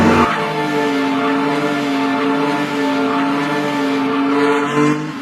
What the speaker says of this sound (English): He built a racing car with his own hands, a car that has everything we already know about other cars.